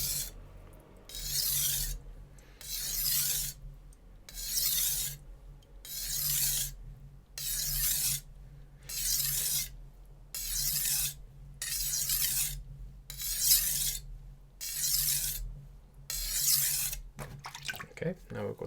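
Zwilling Pro chef knife drawn across a sharpening stone in a steady series of about a dozen rasping strokes, each a bright gritty scrape separated by brief pauses, close and clear with no talking.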